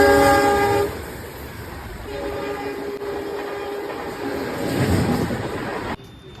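A train at Durgapura railway station, with a loud horn blast at the start, then the steady rumble and rattle of rail cars rolling past close by, rising briefly before cutting off abruptly near the end.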